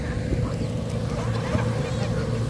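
Ducks and geese crowd together at the Serpentine lake in Hyde Park, London, as they gather to be fed, with a continuous busy chorus of quacks and honks close by under people talking.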